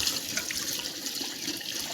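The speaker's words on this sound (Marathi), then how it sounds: "टाक पाणी आता थोडं पाणी टाक" Water poured into a cooking pot in a forest camp while goat mutton is cooked outdoors, a continuous close rushing pour with no talking.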